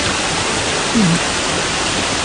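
A very clear river at Masinloc, Zambales rushes steadily with broad, loud, continuous water noise, close by and unbroken, and a brief faint voice shows up partway through.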